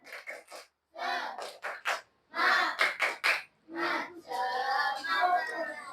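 Schoolchildren in a fourth-grade classroom perform a rhythmic clapping chant, bursts of shouted syllables and claps in a patterned beat with short pauses, moderately faint and close.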